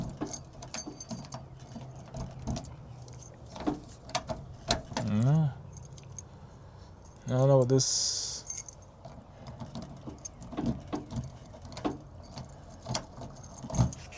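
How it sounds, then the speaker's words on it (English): Keys on a ring jangle and clink in short bursts while being tried in a lock during a house inspection, with someone talking briefly nearby. "if any of these keys work right here"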